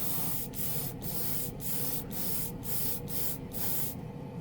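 A portable airbrush compressor runs steadily while icy blue paint is sprayed, with a constant hum under a regular series of short hissing spray bursts about every half second that stop near the end.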